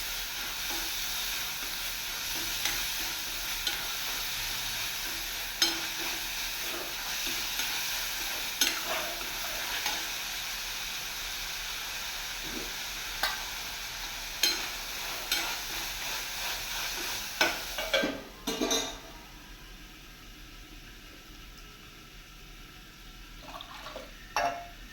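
Sprouted moth bean dry curry cooking in a pan, a soft steady sizzle and hiss with occasional stirring scrapes and clinks, fairly quiet and close, ending with a lid clatter and lower simmer.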